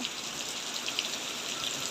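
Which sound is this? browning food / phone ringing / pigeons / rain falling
rain falling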